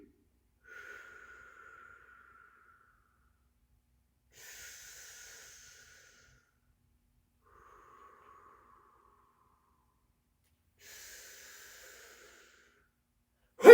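Loud, deliberate breaths during a qigong strength exercise, a few long inhales and exhales spaced several seconds apart in near silence, ending with a sudden sharp sound.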